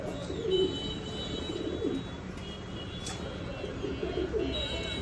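Top-quality Red Lahori fancy pigeons from an imported bloodline coo softly and repeatedly close by, their low rolling calls recurring over a faint steady background hum.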